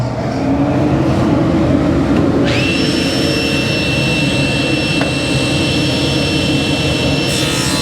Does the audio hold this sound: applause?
no